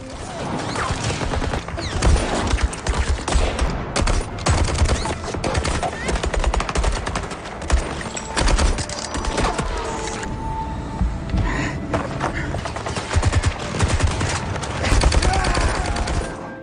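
Machine gun fire dominates a war film battle between Soviet women snipers and German soldiers, with loud rapid bursts and gunshots crackling continuously throughout amid crashes and battle noise.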